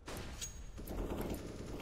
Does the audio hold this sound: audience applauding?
no